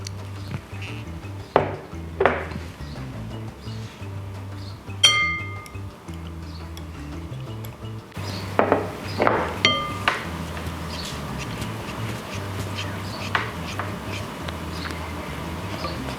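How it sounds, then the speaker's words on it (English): Cream and condensed milk being mixed for a Filipino fruit salad, heard as scattered light clinks and taps of utensil against a glass bowl, irregular and close, over a low steady background hum. "First, we mix cream and condensed milk."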